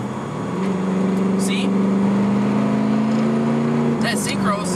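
A 1999 Pontiac Trans Am with a six-speed manual gearbox drones loudly as it slows at around 45 mph during a downshift, the engine note holding steady and then shifting while someone talks over it.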